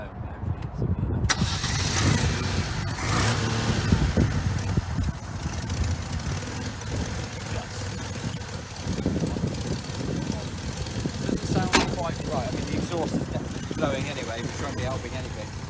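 A 1992 Fiat Panda's small engine running steadily after its idle speed was turned up, a continuous low rumble throughout with speech-like activity over it.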